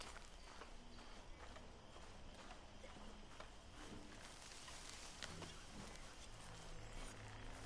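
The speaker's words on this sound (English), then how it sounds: "Eu peguei o cavalo lendário aí" Steady hoofbeats of a legendary horse in Red Dead Redemption 2, a continuous clip-clop rhythm under a dense, noisy game background, with no talking.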